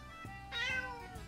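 A single faint, short meow from a cat sits low under a quiet, hissy room background.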